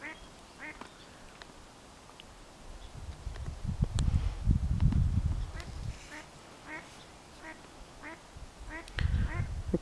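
A duck quacks repeatedly outdoors, a series of short nasal calls spread across the stretch, while someone talks and leaves or brush rustle nearby.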